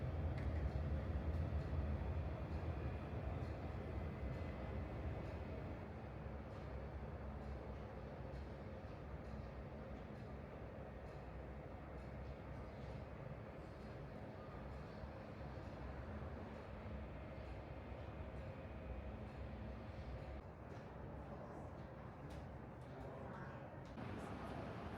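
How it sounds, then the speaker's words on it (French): A Hong Kong metro train is underway and gives a steady, continuous low rumble and rolling roar from inside the carriage. Faint higher rattles sit over it throughout. "On reprend le métro et cette fois, on descend à la Sai Ying Pun Station"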